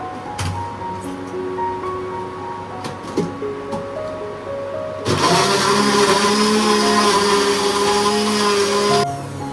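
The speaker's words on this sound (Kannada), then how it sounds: "ನಾನು ಇದನ್ನ ಬ್ಲೆಂಡ್ ಮಾಡ್ಕೋತೀನಿ." A blender whirs loudly and steadily for several seconds after some quieter kitchen clatter, its motor tone holding even until it cuts off.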